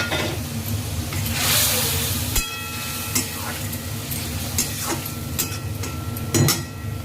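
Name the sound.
tomato added to hot pan, frying and sizzling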